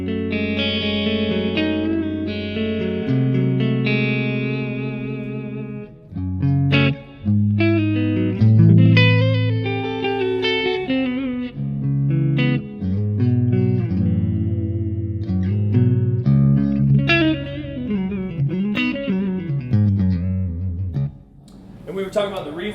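Single-string electric guitar lines through the clean channel of a MESA/Boogie JP-2C amp, melodic sustained notes with bends and slides, played alone and up front for over twenty seconds with short pauses.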